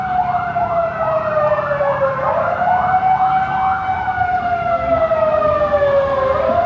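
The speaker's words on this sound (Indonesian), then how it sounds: "Kirain sirene apa gitu" A wailing emergency vehicle siren rises and falls in long sweeping cycles, loud and continuous throughout against a steady background rumble, near an outdoor street dispute.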